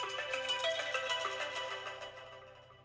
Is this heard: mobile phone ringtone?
yes